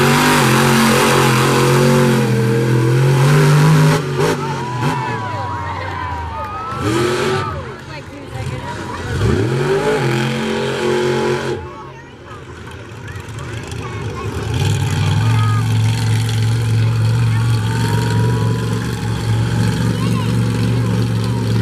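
A powerful monster truck engine revs hard during a qualifying run at a 2021 Monster Truck Throwdown, roaring loud and close, rising and falling in pitch, with a brief dip before it climbs again, under a commentator's talk.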